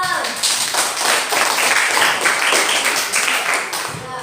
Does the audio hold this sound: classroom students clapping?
yes